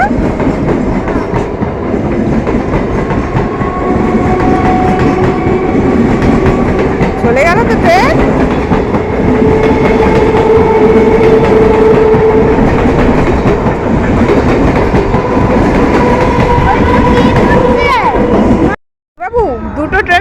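A train passes through a railway station, a loud continuous rumble of rolling wagons with clickety-clack rhythm, squealing tones and station babble, with brief silence near the end.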